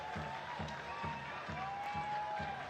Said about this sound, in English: So he gets an ovation from the crowd.